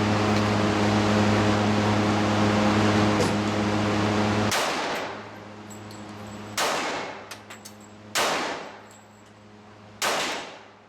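Four sharp, loud pistol reports from a Smith & Wesson 1911 E Class firing .45 ACP at a range, each a hard crack with a ringing tail, spaced about two seconds apart after a steady droning hum.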